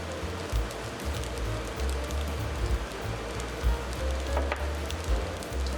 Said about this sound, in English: Continue to toss all this rice.